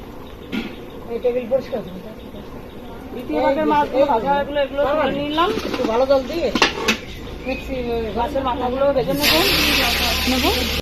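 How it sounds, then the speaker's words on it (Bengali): Fish heads fry in spitting hot oil during large-batch cooking for a hundred-guest home event. A harsh hiss and crackle runs beneath loud, close talking, swelling into a louder burst of spatter near the end. "ওরে বাপরে দেখুন কেমন তেল ছিটছে"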